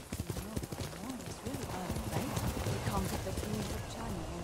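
Rhythmic horse hooves clip-clop steadily in the video game Ghost of Tsushima, with voices talking over the hoofbeats.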